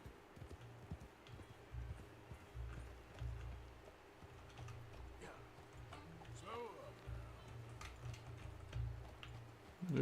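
Horse hooves clip-clopping in a steady walking rhythm, fairly close, with people talking quietly over it and an outdoor background.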